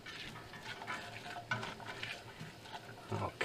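Vegetables cooking in butter in a pan give a soft, steady sizzle and crackle, fairly faint, with occasional louder pops and stirring scrapes.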